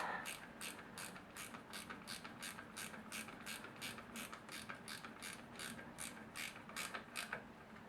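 A hand ratchet tightens bolts on the rear brake of a Honda NT400 motorcycle, giving rapid, evenly spaced clicking strokes close by that repeat steadily with no voices.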